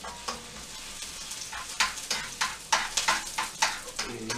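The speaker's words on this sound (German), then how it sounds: "hier sind meine Zwiebeln, die brutzeln schon schön" Onions sizzle in a frying pan with a steady crackle, punctuated by repeated scraping stirs, close and fairly loud.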